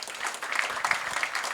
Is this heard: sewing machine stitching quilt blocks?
no